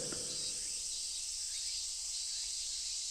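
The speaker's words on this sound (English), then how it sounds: "The cicadas sing their hearts out" A steady, dense buzz of video game cicadas fills the air, droning evenly and continuously without pause.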